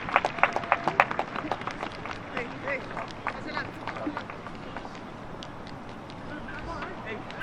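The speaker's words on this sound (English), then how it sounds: "gets a round of applause from the crowd as well." Crowd applause at a youth U-17 soccer match between Real Salt Lake and FC Dallas, scattered clapping and crowd noise rising in bursts early then settling into a steady murmur, with a commentator talking over it.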